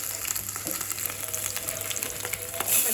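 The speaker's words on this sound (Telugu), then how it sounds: "ఇప్పుడు తాలింపు పెట్టుకోవాలి వీటిని" Mustard seeds and small onions frying in hot oil for a South Indian tempering with green chillies, a steady close sizzle and crackle running throughout with no talk.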